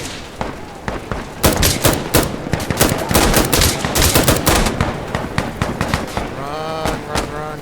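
Rapid bursts of automatic gunfire from an M249 SAW and other weapons in the video game Insurgency: Sandstorm, loud and close with dense overlapping shots, while a player talks over the firing.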